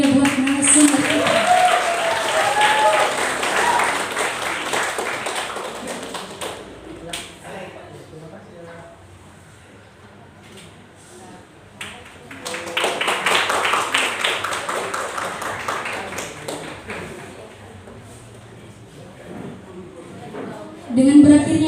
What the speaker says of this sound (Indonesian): Mari kita berikan tepuk tangan yang meriah buat narasumber kita.